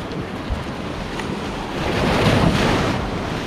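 Ocean waves at Praia do Estouro beach in Arraial do Cabo, with broad surf wash and wind noise on the microphone, swelling louder toward the middle and staying steady and fairly close.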